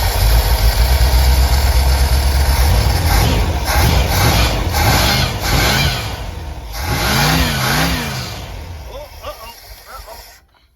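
A 1973 Dodge B100 van engine, its carburetor flooded with gas, runs loud and rough throughout, revving and settling toward an idle before dying out near the end, with voices talking over it.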